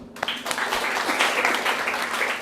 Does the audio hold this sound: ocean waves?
no